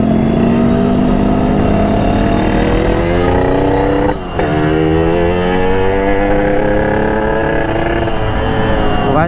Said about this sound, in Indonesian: Cuman gua rasa sih si Asbun juga kalah sama ini motor cuy